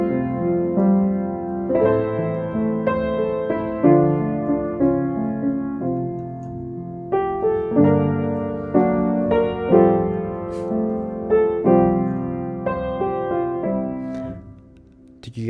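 Piano chords played together with a melody line, moving through minor chords that descend by half steps, in a steady succession of struck chords over about fifteen seconds, with no talking.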